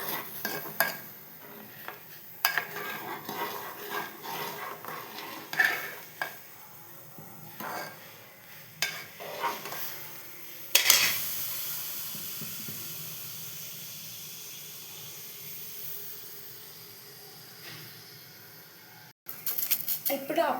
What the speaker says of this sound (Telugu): తర్వాతకి సేమియాని మంచిగా మిక్స్ చేయాలి.